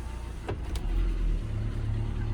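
A car, apparently a Fiat Doblo, drives along with a steady low engine and road rumble inside the cabin, broken by a brief click or two of interior noise.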